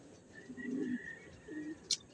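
A racing pigeon at a club loft gives two soft, low coos close by, followed by a brief sharp click in a quiet setting.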